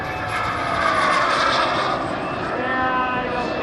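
A jet aircraft at an airshow roars loudly overhead in a steady, sustained pass, its engine whine high and bright over a rumbling low end.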